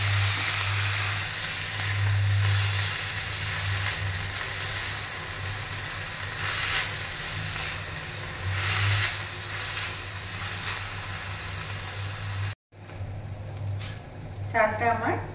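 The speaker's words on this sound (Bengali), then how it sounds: "চালটা দিয়ে একটু নাড়াচাড়া করব।" Rice stir-fries in a pan for paneer fried rice with a continuous sizzle and occasional scraping stirs, holding steady before a short break, after which the frying comes back quieter alongside faint clinks.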